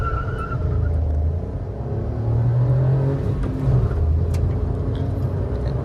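A Swift CNG and a Wagon R CNG accelerate hard side by side in a drag race with traction control off. A loud, steady engine roar rises and holds close by, with no talking.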